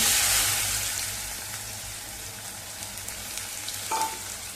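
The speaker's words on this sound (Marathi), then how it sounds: "दोन तीन मिनिटं कांदा चांगला मऊ होईपर्यंत सोनेरी रंगावरती परतवून घेतलेला आहे" Finely chopped onions sauté in hot oil with curry leaves and asafoetida, giving a loud, close sizzle that eases to a steady hiss, with a brief utensil clink near the end.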